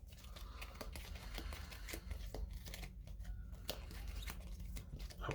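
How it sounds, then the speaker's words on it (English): A deck of game cards for Dawn of the Zeds is shuffled by hand, giving soft repeated riffling and flicking close by at a low, steady level. "So I'm just going to shuffle these up."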